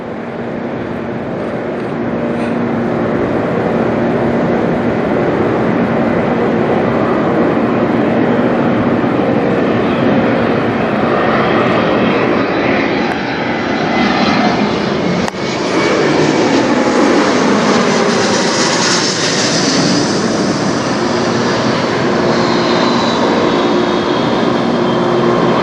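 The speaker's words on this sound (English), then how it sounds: "Coming up here, we've got a Bombardier Challenger 300." A Bombardier Challenger 300 business jet passes over Toronto airport with a loud, sustained roar that swells and shifts in pitch as it flies by, with no talk over it.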